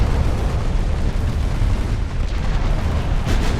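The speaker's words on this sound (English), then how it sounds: "Gets hit with the torpedo." A torpedo strikes a ship in a naval video game, setting off a loud, sustained explosion whose deep rumble fills the whole span without easing.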